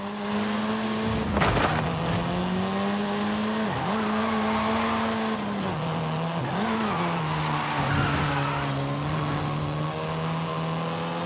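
A Volkswagen Golf R drives in Forza Horizon 5, its engine holding a steady, loud tone with several short dips and surges as it shifts and brakes, plus a brief tire squeal or skid near the start.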